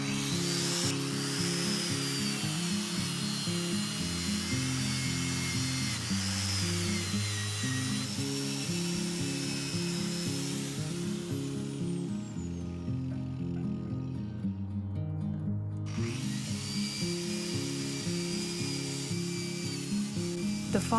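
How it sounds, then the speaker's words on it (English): Angle grinder fitted with a wire brush attachment scrubbing rust off an old iron cheese press; a steady, close whining drone that shifts pitch as pressure changes, briefly dropping lower midway before rising again, no talking. "So I am gonna try and use the angle grinder again with the brush kind of attachment to clean some of the rust off this."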